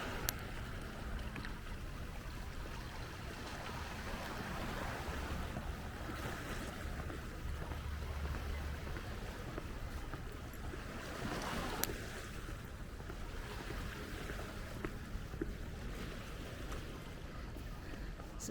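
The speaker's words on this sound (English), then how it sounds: "The water coming up against the rocks." Waves washing against rocks along a waterfront after a nor'easter, a steady, full wash of surf and wind noise with gentle swells and occasional louder surges, without talk.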